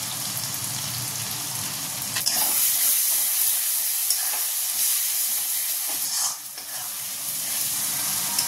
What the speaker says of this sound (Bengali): দেখো মশলাটা ভালো করে কষানো হয়ে গেছে, তেলও ছেড়ে দিয়েছে সাইড দিয়ে